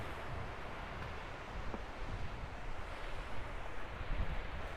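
Steady beach surf mixed with wind noise at Matagorda, broad and faint, with no speech.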